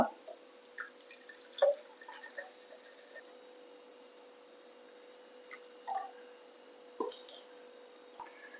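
Strained lemon juice drips in sparse, quiet drops, each landing as a small distinct plink or splash at irregular intervals over a faint steady hum, with no voices.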